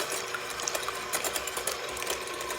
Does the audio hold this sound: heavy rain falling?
no